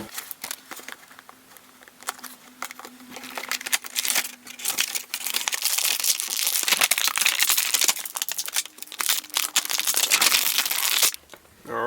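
Scissors cutting and plastic packaging crinkling and tearing as a Kit Fisto toy figure is opened, close and busy, with bursts of crackling and snipping that build to a dense middle stretch and briefly drop off near the end.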